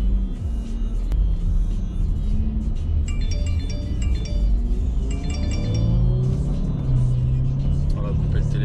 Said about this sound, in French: Je sais pas si vous avez l'oreille, mais il y a une voiture qui me devance.